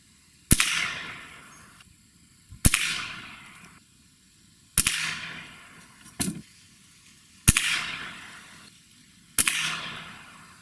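Gamo Gen3i air rifle firing 7.9 grain Premier hollow-point pellets: six sharp cracks spaced about two seconds apart, each followed by a short decaying ring, with quiet between shots.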